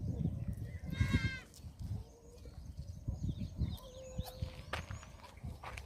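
Young goats bleating near a farm with cows and sheep, one clear wavering bleat early on amid bird calls and rustling, then fainter calls further off over steady outdoor background noise.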